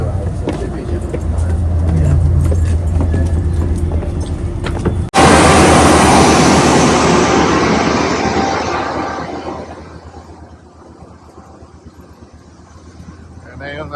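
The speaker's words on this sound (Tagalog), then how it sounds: "Yun na yung train, mga katrago." A passenger train rolls into a station on a trip to San Juan Capistrano, its loud broadband rumble and rush building abruptly and then fading as it slows, with people talking over it.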